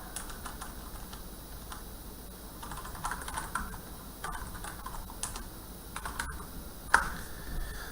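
Steady, close typing patters on a computer keyboard as a name is entered, a fairly quiet run of rapid keystrokes with a few louder key clacks near the end.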